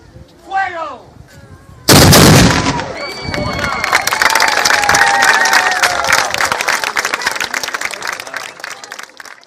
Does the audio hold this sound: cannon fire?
yes